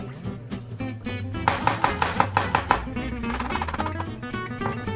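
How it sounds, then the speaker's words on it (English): A kitchen knife chops garlic on a cutting board for a tuna spaghetti dish, giving a quick run of about nine sharp, even taps in a burst near the middle, with a few scattered knocks before and after. "Next we'll chop up our garlic."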